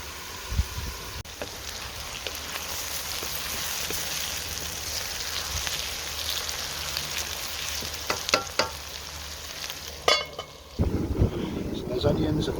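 Lamb and onions fry in ghee in a pan, giving a steady close sizzle that runs throughout, with a few clatters and stirring knocks near the end.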